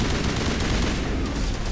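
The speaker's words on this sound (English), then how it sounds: "Fire in the hole! Let's have some grenades." Combat noise from Mass Effect Legendary Edition during a fight against Brood Warriors: dense, continuous crackling fire with rumbling bursts throughout, loud and steady, no voices over it.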